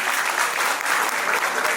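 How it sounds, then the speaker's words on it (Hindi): A crowd at a book launch for Dr. Rahul Dipankar, attended by former President Ram Nath Kovind, bursts into loud, sustained applause: dense, close clapping from many hands filling the hall throughout. "ऐसे डॉक्टर राहुल कृपाणकर जी के लिए जोरदार तालियां उनका अभिनंदन"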